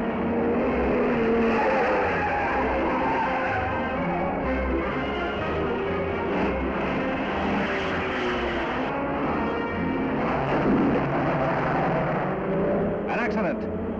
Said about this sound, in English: All but one of the cars zooming around the brick track are American.